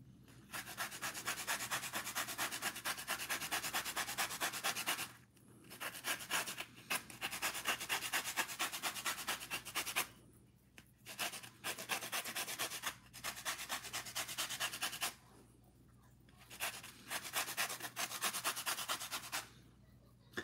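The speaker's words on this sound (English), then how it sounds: "So you grab your grater here and grate away." A lemon is grated on a hand grater in a home kitchen. Loud, rapid rasping strokes come close up in long bursts, broken by short pauses.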